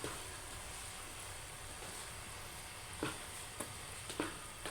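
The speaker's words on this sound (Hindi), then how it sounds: "अब इसमें आलू ऐड कर दें, आलू को अच्छे से मिक्स कर लें।" Potatoes are mixed into frying keema in a pan, giving a soft steady sizzle with a few faint spoon clinks and scrapes toward the end, fairly quiet.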